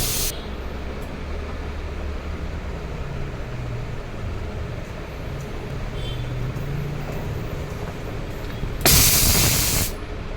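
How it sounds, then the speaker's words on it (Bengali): Pressure cooker cooking dal on a stove, a steady loud steam hiss running throughout, with a sharper burst of whistle and steam release near the end. "এবার 5টা সিটি দেওয়ার পরে এই দেখো সিটি দিচ্ছে।"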